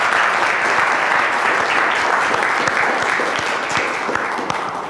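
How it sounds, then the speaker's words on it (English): Sustained applause from a lecture audience, a dense continuous roar of many hands clapping at steady loudness throughout, with no voices on top. "now we've clapped"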